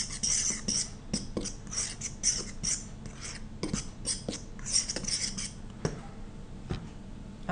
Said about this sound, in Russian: Хорошо перемешиваем вилкой это все.